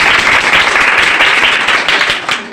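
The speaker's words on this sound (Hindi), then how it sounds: "चलिए इनके लिए एक जोरदार ताली बनता है।" Loud, dense applause for a student at a village coaching centre, many hands clapping together in a continuous close burst that tapers slightly at the end.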